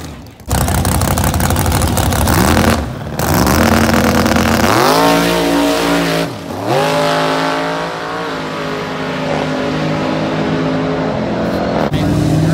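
A Dodge Hellcat and a Jeep Trackhawk racing, with loud, close engine roar that climbs through gear changes, briefly dips, then holds a sustained high-pitched drone.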